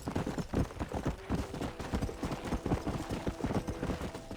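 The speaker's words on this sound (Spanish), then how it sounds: "Vamos a ver cómo anda el caballo." Horse hooves clip-clopping at a steady, rapid gait in the Western video game Red Dead Redemption, a continuous close rhythmic drumming of hoofbeats with no talk over it.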